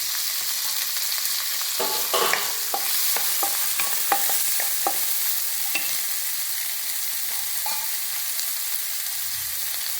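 Chopped large onions sautéing with salt in oil and cumin, a continuous close sizzle with a run of spatula scrapes and taps stirring through the pan, no voices.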